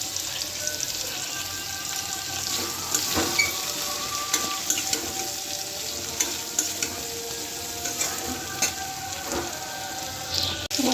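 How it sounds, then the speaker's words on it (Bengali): Ground spices, chili and turmeric, sizzle and fry with potatoes in a pan for a fish curry, a steady crackling hiss punctuated by repeated scraping clinks of a stirring spoon. "মশলাগুলো সব মিশিয়ে নিচ্ছি।"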